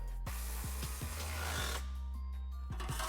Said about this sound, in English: reinstall the original bolt and tighten it down